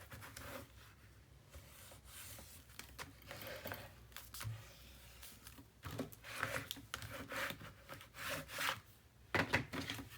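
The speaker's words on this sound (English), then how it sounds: "Let's give her a good burnish." Paper is burnished onto a mini album panel with close, soft rubbing and scraping strokes of uneven length. The strokes grow busier and scratchier toward the end and include a few small taps.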